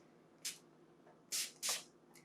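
Three short hissing bursts of a Beauty Creations Flawless Stay setting spray, close by and fairly soft, separated by brief pauses, with a faint fourth puff at the end.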